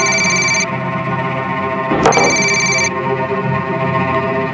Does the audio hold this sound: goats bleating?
no